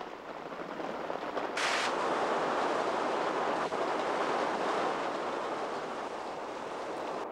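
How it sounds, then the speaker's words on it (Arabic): Monsoon wind blows near Mount Bokan, a steady broad roar that swells and stays strong, with a brief sharp gust or buffet early on, no voices present. "لقد بدأت الرياح الموسمية"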